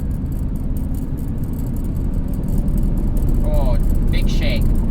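A 1984 Dodge Mini Ram, parked for 25 years and now on the road in fourth gear, gives a steady, loud engine and road rumble that swells slightly midway, with a few faint chirps above it.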